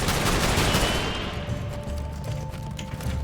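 A weapon in a shooter video game fires a rapid, dense burst for about a second, then the noise fades into a ringing tail.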